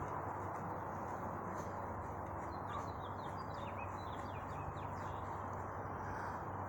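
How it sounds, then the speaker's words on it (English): Faint, scattered bird chirps sit high above a steady broadband outdoor hiss, thin and distant, with no voices. "Why are these damn frickin' freaky birds frickin' making noises around me?"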